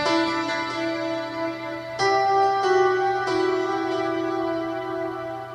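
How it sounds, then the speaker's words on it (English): A soft piano line from an electronic track, sustained notes ringing out with a few new chords struck, moderately loud and alone with no voices. "We also have a really nice little piano line that plays very subtly in the final mix."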